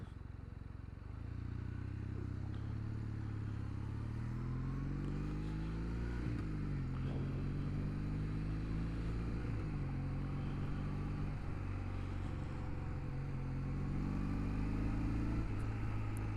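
A Kawasaki W800 motorcycle with an 800cc twin engine is ridden through traffic, its engine note rising and falling steadily through several gear shifts as it accelerates, under constant wind rush.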